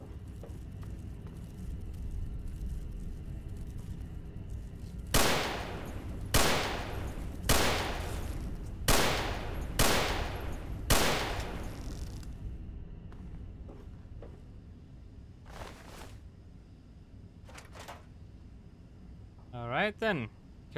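Six loud, evenly spaced gunshots ring out in the video game Fallout 3, followed by a couple of fainter shots, with a voice speaking briefly at the end.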